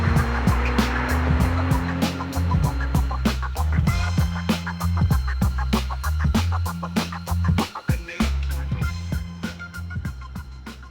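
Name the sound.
Honda Accord V6 manual car driving on road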